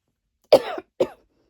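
Two coughs, a longer harsh one followed by a short second cough, close to the microphone with silence around them.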